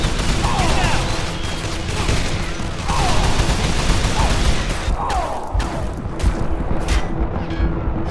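Gunfire from the video game Call of Juarez: The Cartel rattles in dense, sustained bursts with heavy booms, loud and close throughout, with a few shouted voices mixed in.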